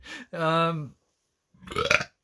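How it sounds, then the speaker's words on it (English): A man lets out a loud, drawn-out burp close to the microphone, followed by a pause and a brief voiced sound. "Why did I put my hand over my eyes to burp?"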